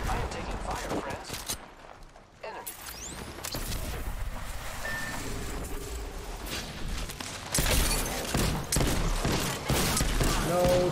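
Dense, continuous gunfire fills an Apex Legends match, with rapid bursts and fusillades loud and close throughout, while a player talks over the shooting.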